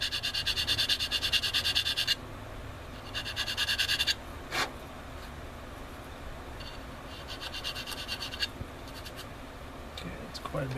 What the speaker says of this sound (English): I will use my knife to square up the hole